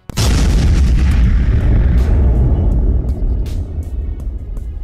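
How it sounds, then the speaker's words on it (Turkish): A ship's gunpowder magazine explodes in a historic Ottoman-Venetian naval battle, a sudden loud blast followed by a sustained deep rumbling roar with scattered crackles, fading slightly toward the end. "Ve barut deposunu infilak ettirdi."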